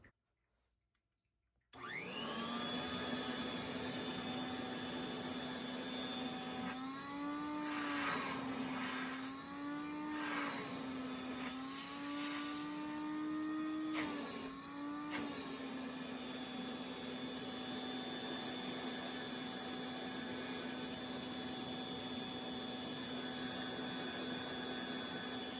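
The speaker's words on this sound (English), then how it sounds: "that's how loud the compact or Interstate model C-1 sounds" A 1948 Interstate Compact Model C-1 vacuum cleaner switches on and runs with a steady loud whine and a brief wavering pitch midway.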